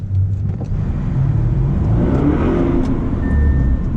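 A 605-horsepower Audi RS7 Performance engine revs up close and loud, a deep rumbling roar that swells and holds steady for several seconds.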